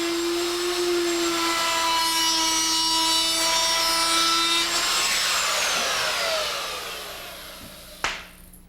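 A router with a piloted bit cutting around the outside edge of a wooden box, a loud steady whine with shifting tones that winds down near the end, followed by a single sharp knock.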